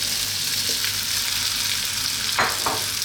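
Potatoes and whole cumin seeds fry in hot sunflower oil, giving a steady close sizzle with a few brief stirring scrapes and no talking.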